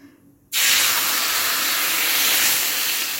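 Dosa batter poured onto a hot greased stone griddle gives a sudden loud sizzle after a brief quiet start, then a steady, broad hiss that holds to the end.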